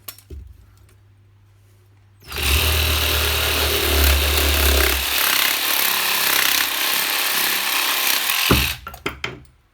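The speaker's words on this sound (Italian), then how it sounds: "inserisco la batteria, proviamo a fare un ulteriore taglio" A Parkside 12V cordless pruning saw (FAAS 12 B2) cuts through wood, starting abruptly into a loud, steady, close buzzing rasp that holds for about six seconds before stopping, followed by a few clunks.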